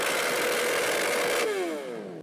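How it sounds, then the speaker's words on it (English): A motorcycle engine, started and revved a little to show off its exhaust note, roars steadily and loudly for over a second before the revs drop away in a falling whine. No other sounds are present. "Start the bike, rev it up a little"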